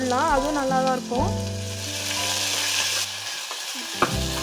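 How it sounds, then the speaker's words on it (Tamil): Chopped onions dropped into hot oil in a pan for arachuvitta sambar, a loud burst of sizzling frying with stirring scrapes, steady and close, with a brief clatter near the end; no talk. "இப்போ எண்ணெய் நல்லா காஞ்சவனே கட் பண்ணி வச்சுருக்கேன் நீல வாக்கத்தில் வெங்காயத்தை போடுறேன் நான்."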